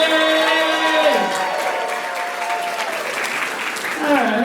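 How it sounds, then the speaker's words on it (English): A New York City comedy club crowd claps and cheers loudly, the applause steady throughout while a performer talks over it at the beginning and again at the end. "give yourselves a round of applause for supporting live comedy in New York City!"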